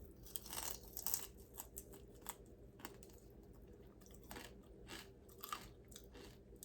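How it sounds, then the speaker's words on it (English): Crunching through the crisp tail of a big cooked fish, a run of close, dry bites and chewing crackles repeating at an irregular pace, with no talk. "Go get you some fresh fish so you can figure out what it's like to crunch the tail of the fish."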